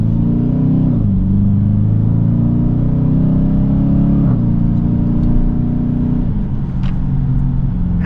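A 2023 Dodge Challenger R/T with its 5.7 Hemi V8 pulls hard under acceleration, a loud, deep rumbling engine note rising and dipping through gear changes, heard up close from inside with no talking.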